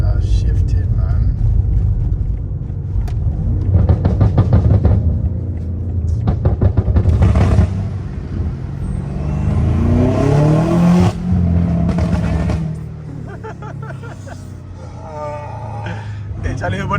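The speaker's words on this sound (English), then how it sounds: "You see the M4." A BMW M4 engine revs in bursts, throaty rumbling roars rising and falling several times nearby, mixed with excited voices talking over it among a small crowd.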